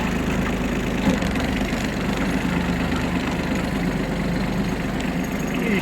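Kubota A-13 Aste Japanese mini tractor engine reversing at low speed, a steady, close, chugging diesel idle with an even throb and no pauses.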